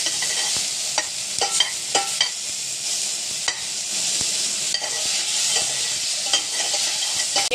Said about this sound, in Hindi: अब हम इसे भी थोड़ा सा फ्राई कर लेंगे।